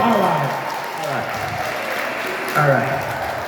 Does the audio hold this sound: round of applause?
yes